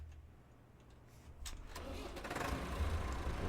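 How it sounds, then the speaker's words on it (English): A tractor engine in the Farming Simulator 25 video game cranks and catches, then settles into a loud, steady low rumble that builds and holds near and alone. "Alright, let's go get our tractor."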